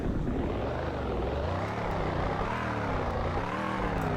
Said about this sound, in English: Let's rev.